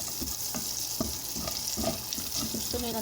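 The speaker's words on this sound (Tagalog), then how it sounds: "Tunawin lang natin yung butter na yan. Ng kunting olive oil." Butter melts and sizzles with a little olive oil in a pan, giving a steady, close frying hiss with occasional light clinks and stirring knocks throughout.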